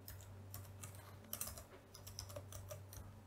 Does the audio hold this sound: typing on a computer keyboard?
yes